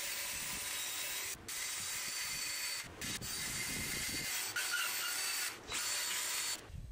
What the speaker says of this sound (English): I'm gonna use that little roll lock wheel again.